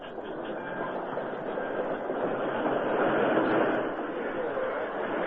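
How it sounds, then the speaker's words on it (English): A train rolls in with a steady broad rumble that swells and then eases slightly, continuous and fairly loud, with a low mechanical hum beneath. "Todd Lyons waited at the town's railroad station as the train from Kansas stopped there"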